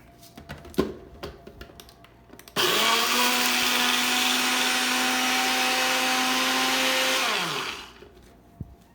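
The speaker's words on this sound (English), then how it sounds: "I'm going to grind this into flour in my NutriBullet" A NutriBullet blender grinds oats into flour, starting abruptly with a loud steady whine that holds for about five seconds before winding down, with faint clicks and handling before and after.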